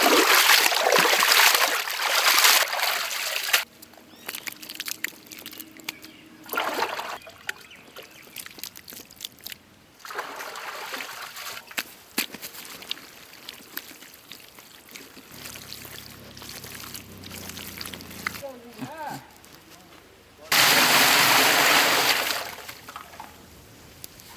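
Rice being washed in water during village-style mutton fried rice cooking outdoors, with bursts of splashing and pouring at the start, middle and end, separated by quieter stretches of handling noise.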